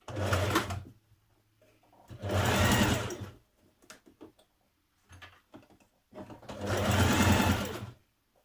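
A sewing machine stitching wrap dress fabric (Simplicity 8735), running in three steady bursts of rapid whirring stitches separated by pauses, close and loud with no voices.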